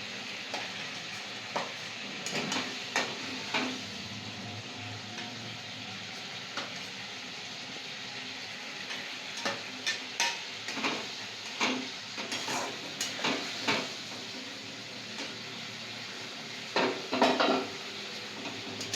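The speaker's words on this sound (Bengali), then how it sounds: "শুধু আলুটা ভেজে রাখা আলুটা দিয়ে দিচ্ছি" Fried potatoes are tipped into a pan for a prawn and pointed gourd curry and stirred, soft sizzling under repeated scraping and clinking of a spatula against the metal pan.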